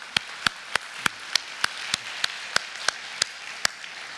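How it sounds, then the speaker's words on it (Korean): Evenly paced hand clapping during a church worship service, sharp single claps roughly three per second against quiet room noise, with no voices. "우리 하나님께 우리 감사의 박수 올려드립시다"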